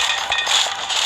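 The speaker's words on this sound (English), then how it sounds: "this is the sound of merging." A brief, dense shimmering whoosh with rattly, scraping texture, the merging sound effect from the video game Castle Fusion, steady and bright throughout.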